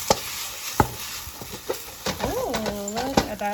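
Singapore mei fun being stirred in a pot, with a series of sharp utensil scrapes and knocks at irregular intervals, followed by a person talking over soft sizzling.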